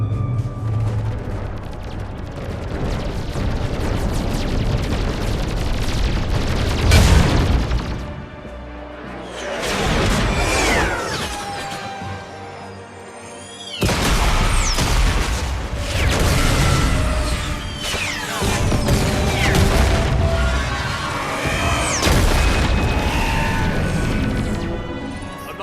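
Weapons fire and explosions crash through a Mass Effect 3 battle against Reaper forces, loud and dense, with bursts of shots and booming impacts that swell, dip briefly, then surge again across the scene.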